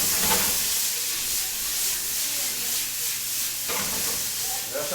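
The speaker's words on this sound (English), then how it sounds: "Just saute this up for a minute or 2, just so everything gets translucent." Onions, peppers and tomatoes sauté in coconut oil in a frying pan, giving a steady close sizzle and hiss throughout with a brief stirring shift near the end.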